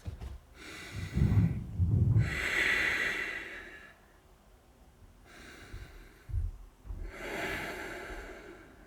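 Slow, deep yoga breaths: long inhales and exhales through the nose and mouth, with audible snorting air and hissing breath, repeated in an even rhythm, close to the microphone.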